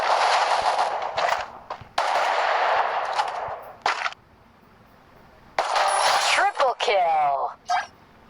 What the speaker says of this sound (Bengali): তো আমি একে মারবো হেডশট